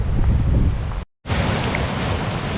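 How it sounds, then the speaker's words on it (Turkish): A strong easterly wind (gündoğusu) buffets the microphone at the Aegean coast near İnceburun, Datça, a loud broadband rush with a brief dropout in the middle. "Burada gün doğusu esiyor."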